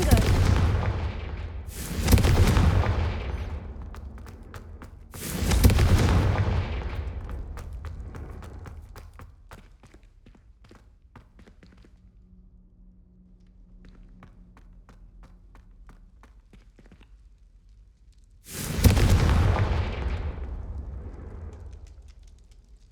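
Repeated Confringo fire-spell blasts from Hogwarts Legacy: three loud, booming bursts in quick succession, a long quieter stretch of faint clicks and a low hum, then one more heavy blast near the end.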